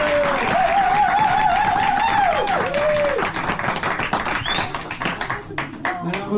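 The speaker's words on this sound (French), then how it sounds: "je pense qu'on peut les applaudir" Audience applause greeting a couple, Martine and Fabrice, at a sixtieth anniversary event, a dense round of clapping that thins out toward the end, with a voice speaking over it.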